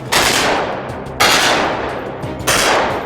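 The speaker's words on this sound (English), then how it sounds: "We have constant gunfires." Rapid gunfire from LAPD SWAT officers on a TV show set, three loud bursts about a second apart, each a sharp crack trailing off into a decaying rattle and echo.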